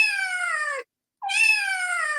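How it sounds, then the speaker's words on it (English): A cat gives two meows in quick succession, each a clear, close, drawn-out tonal cry separated by a short silence, the second slightly louder and rising before falling away. "Hit him with the old double meow."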